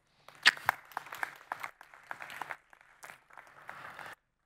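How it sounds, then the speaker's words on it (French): Audience applause at an onstage conference talk on AI in artistic creation in Metz: scattered hand clapping from a moderate crowd, uneven bursts that taper off after about four seconds. "dont Hugo Cazel-Dupré et Pierre Fautrel, que je vous demande d'applaudir tout de suite"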